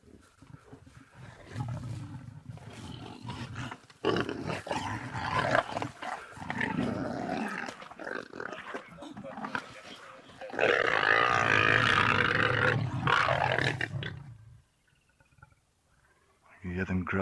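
Two male leopards growl at each other on safari, low rumbling growls rising and falling over several seconds, the loudest burst near the end, with people talking quietly nearby.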